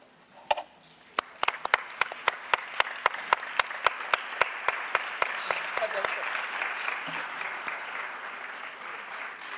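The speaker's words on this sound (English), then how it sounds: "I ask you all to please stand and clap in the memory of Madiba" At a summit plenary session, a standing audience claps in memory of Madiba, beginning with a few isolated claps, then a regular beat of rhythmic claps rides over swelling, dense applause that grows fuller and continues to the end.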